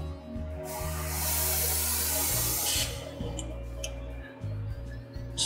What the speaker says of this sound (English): This is an airbrush that I bought a while back.